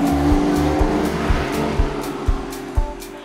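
A blue Porsche 911 S rally car driving hard, engine roaring loud and close with rhythmic revving bursts between gear changes and tyre noise.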